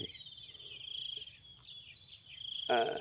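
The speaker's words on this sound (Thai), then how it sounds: "ได้ยินเสียง จิงหรีดร้องจอกแจ๊กจอกแจ๊กเป็นธรรมชาติที่" Crickets chirp in fast, regular pulsing trills in the garden in front of a Thai temple, steady and fairly close, with a brief faint sound near the end.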